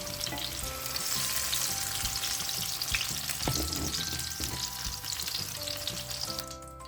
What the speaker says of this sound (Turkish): Patlıcanlarımız güzel kızardı.